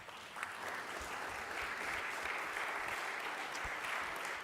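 Audience applause for the speakers at a social democracy forum on shaping the global future, a steady wash of clapping from a sizeable crowd lasting several seconds without a break.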